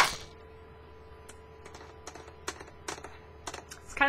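Computer keyboard keys tapped in short irregular bursts while moving through a game with the WASD keys, sharp close clicks spaced unevenly over a quiet background hum, with no talking.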